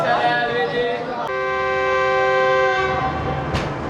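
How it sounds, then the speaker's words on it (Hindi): Train whistle sounding at Rohri Junction for the departure of the 28DN Shalimar Express: a loud, sustained harmonic blast that shifts pitch partway and holds for several seconds over station noise. "डिपार्चर विसल हो गया पहला, आधे घंटे का स्टॉप हो गया इधर।"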